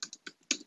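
A computer keyboard being typed on at a terminal: a short run of five quick, light key taps with small gaps, close and fairly quiet, with no talking.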